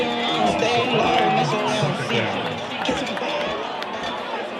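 Crowd noise from a boys varsity high school football game between Redondo Union and Huntington Beach, a dense, steady roar of voices and chatter filling the stadium, with announcer-like talk blended into the din throughout.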